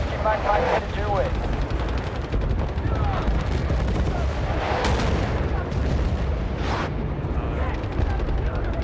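An artillery fire strike lands in loud, continuous rumbling blasts with several sharper bursts, a dense layer of explosions and gunfire close by, with voices talking over it.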